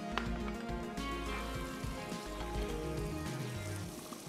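Garlic sizzles in hot oil as a tadka tempering for a lauki chana fry: a close, steady crackling hiss that runs throughout, with no talking.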